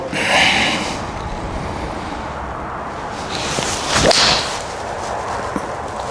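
A sharp, high-pitched click as an iron strikes a golf ball, with a quick swish around it, against steady outdoor background noise.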